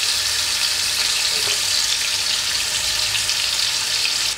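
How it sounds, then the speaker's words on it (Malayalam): Oil heats in a clay pot before frying vaala fish for a curry, giving a steady, even frying hiss close by with no break throughout. "ചട്ടി നന്നായിട്ട് ചൂടാവട്ടെ, എണ്ണ ഒഴിച്ചു കൊടുക്കുക."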